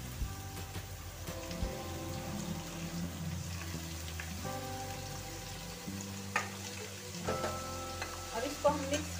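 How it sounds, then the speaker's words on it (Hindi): Amaranth greens drop onto potatoes frying in a pan, setting off a steady close sizzle with stirring scrapes and small crackles throughout. "अब हम इसमें साग डाल देंगे, हमने जो साग कट किया है इसको।"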